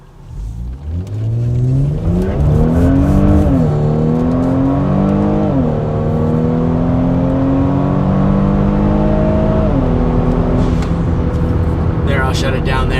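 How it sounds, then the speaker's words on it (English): A Kia Stinger sedan with an MBRP 2.5-inch cat-back dual rear exit exhaust revs hard at full throttle, its exhaust note rising through the gears with loud, raspy pulls and brief dips at each shift. "I'm going to let the car have it at wide open throttle"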